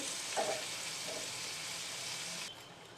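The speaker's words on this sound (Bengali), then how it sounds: "আঁচটা কম করে নিয়ে ভাজতে হবে, নয়তো পুড়ে যাবে।" Pointed gourd frying over low heat in a pan for a potato and pointed gourd curry, a steady soft sizzle with a couple of faint utensil scrapes, fading quieter near the end, with no talk.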